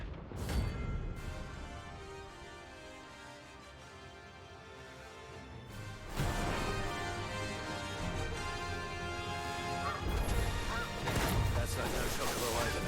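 A large bird monster in Final Fantasy 16 calls out in loud honking, goose-like cries over game music and clashing impacts, the calls growing stronger in the second half.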